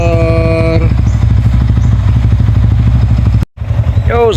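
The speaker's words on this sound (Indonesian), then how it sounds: "Panasin motor" A motorcycle engine idles close by as it warms up in the morning, a steady throbbing putter that briefly drops out near the end and then picks up again, with a voice heard over it.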